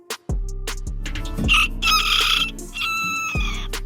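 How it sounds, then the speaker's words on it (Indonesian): A small Serama bantam rooster crows loudly up close, a shrill drawn-out call rising over a steady low music bed. "Serama adalah nama ayam bantam asal Malaysia."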